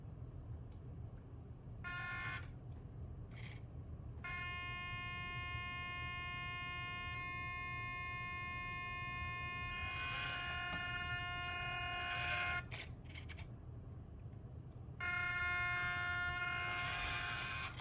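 A WPL C14 RC truck crawls slowly, its electric motor and gears giving a thin, rising and falling whine that starts and stops in several bursts over a steady background hum.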